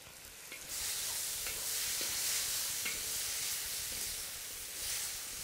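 Braised pork belly stir-frying in a wok with chili and seasoning until the liquid cooks off, giving a steady, loud sizzle and hiss with faint stirring scrapes and no talk.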